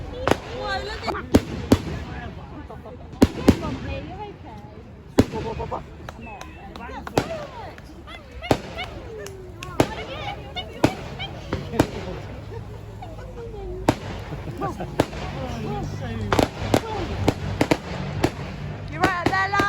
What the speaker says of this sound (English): Not bothered with fireworks.